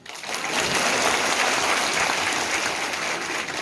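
Dense, steady clapping from a large crowd at a political youth rally in Ballia, loud and continuous for a few seconds without speech over it.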